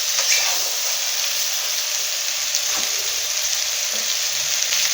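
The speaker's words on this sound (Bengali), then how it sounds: "চাপা দিয়ে দিয়ে ভালো করে ভেজে নেব" Fish frying in a pan of oil for a light fish curry, a steady close hiss of sizzling that runs without a break and with no talk.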